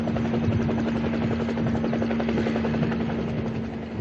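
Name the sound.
helicopter flying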